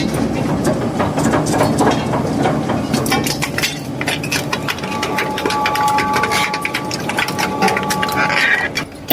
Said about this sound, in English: This little bicycle does not last long against the powerful steel cutters.